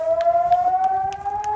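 Air raid siren in Israel during an attack, a loud steady wail that slowly rises in pitch for the whole stretch, with faint thuds and noise in the background.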